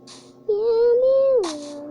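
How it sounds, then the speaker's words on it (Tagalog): A single drawn-out meow from a cat in the Minecraft video game, clear and close, sliding up and then dropping at the end. "May pusa pa. Meow meow."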